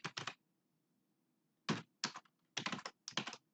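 Typing on a computer keyboard in quick bursts of clustered keystrokes separated by short pauses, close and crisp, with no speech.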